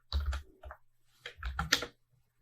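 Two quick bursts of typing on a computer keyboard, crisp close keystrokes clustered in short runs with a brief pause between them, fairly quiet and alone.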